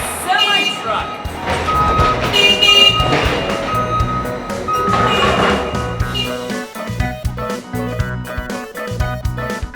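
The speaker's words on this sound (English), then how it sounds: "We're currently loading them into the back of a semi-truck." Reversing beeps from a semi-truck being loaded with apples at an apple fruit factory, steady and fairly loud, mixed with music and busy loading noise throughout.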